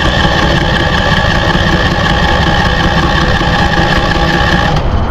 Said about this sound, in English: We're going to turn our generator power on, and we're going to hit the start button and see what happens